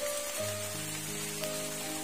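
Heavy rain falls steadily in a forest, a dense continuous patter close by, with tonal hums running under it and no talk.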